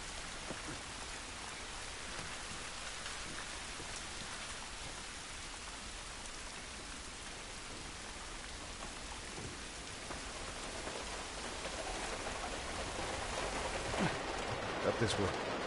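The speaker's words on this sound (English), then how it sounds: "This rain ain't gonna do us any good." Steady rain falls in a PS4 video game, a continuous broadband hiss of drops that grows slightly louder and denser toward the end, with faint game sounds beneath.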